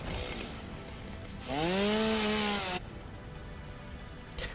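A chainsaw in the video game Satisfactory chops down trees, a single loud revving burst of about a second and a half that rises and holds steady before cutting off, set against a low constant game background.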